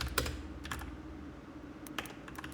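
Quiet clicking keystrokes on a computer keyboard, coming in short irregular bursts with pauses between them, with no talking.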